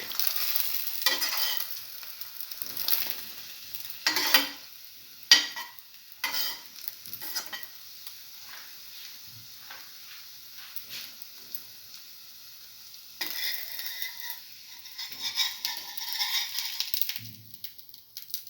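Food frying in oil in a pan while being moved around with a utensil: steady sizzling hiss with occasional scrapes and clinks, close and alone with no voices.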